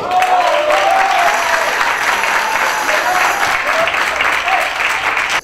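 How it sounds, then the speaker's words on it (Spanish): Loud, sustained applause from a festival audience at a Medellín university awards moment, dense and even throughout, with a voice briefly heard over it before it cuts off abruptly. "Bueno, más fuerte ese aplauso."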